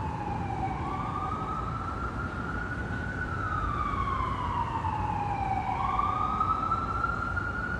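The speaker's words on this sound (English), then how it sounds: "Hear the sirens of the big city." Emergency sirens wail in the distance, rising and falling in long sweeps over a low city traffic rumble, fairly faint and continuous.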